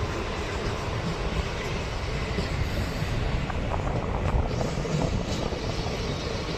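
Inside a moving DEMU passenger train between Humnabad and Kalaburagi, a dense, continuous rolling roar of wheels and engine holds steady throughout, close and loud, with faint rattling textures.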